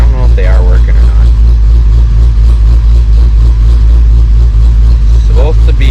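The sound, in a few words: Dodge Challenger Hellcat engine and loud exhaust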